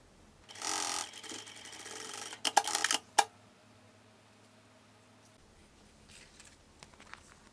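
Sewing machine stitching fabric along a zipper for a cloth makeup case, with a short burst of rapid mechanical clatter near the start and a few sharper clicks after, then quiet.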